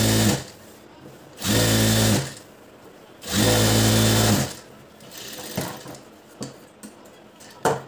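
A sewing machine topstitching a blouse lining runs in two loud, even bursts of about a second each, separated by pauses filled with quieter handling clicks and rustling of fabric.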